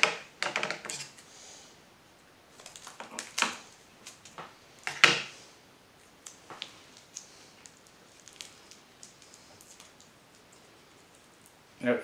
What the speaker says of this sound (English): that's piece of tape going one direction, and we'll have it going the other direction.